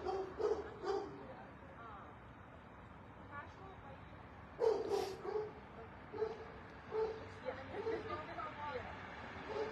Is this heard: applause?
no